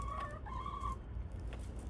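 Chickens cluck and call inside a coop amid a steady low hum of background noise, with a few clear tonal calls in the first second and softer clucks after.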